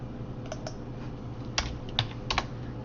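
A computer keyboard being typed on while entering a search, soft key taps close by over a low background hum, with a few sharper clicks near the end.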